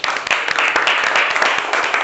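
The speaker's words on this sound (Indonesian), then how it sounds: "berikan dulu tepuk tangan" A classroom of students applauds during a teacher-training lesson, a thick, steady burst of many hands clapping together at close range with a few sharper claps poking through.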